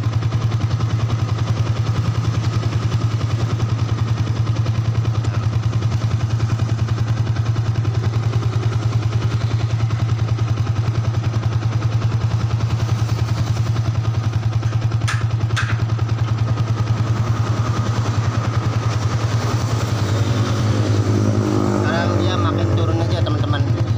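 A Yamaha Vixion motorcycle engine idles steadily and loudly, a constant low rumble running throughout while its stock regulator rectifier heats up, with a faint voice underneath.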